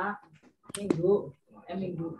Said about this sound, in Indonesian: Kalau kau anak soleh tepuk tangan.